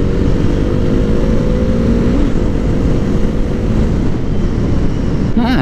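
KTM Duke 390 single-cylinder motorcycle engine while riding, a steady loud drone with low rumble and wind throughout, briefly rising in pitch near the end.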